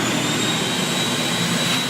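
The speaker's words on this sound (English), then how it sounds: "We're going to turn on the pump, the vacuum." Kaivac no-touch cleaning system with its vacuum and pump switched on, giving a steady, loud whining roar with a high constant tone, running alone without any talk.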